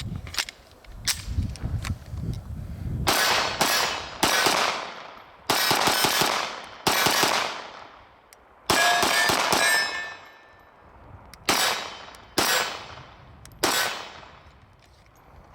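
A SAR USA CM9 Gen 2 9mm pistol fired outdoors, a series of loud sharp cracks in quick bursts and single shots with ringing echoes trailing off between them.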